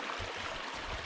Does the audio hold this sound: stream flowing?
yes